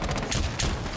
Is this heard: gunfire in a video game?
yes